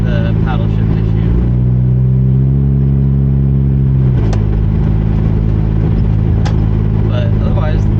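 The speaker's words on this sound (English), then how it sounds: "the car sounds great, drives great" A Mazda RX-8 rotary engine idles steadily after an ECU reset, its hum shifting pitch around the middle, with a few faint clicks and brief voice sounds over it.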